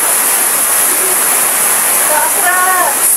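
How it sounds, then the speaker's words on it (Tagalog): Heavy rain pours down during Typhoon Christine, a dense, steady, loud hiss of water that never lets up, with a brief voice rising faintly over the downpour near the end. "Napakalakas po na ulan"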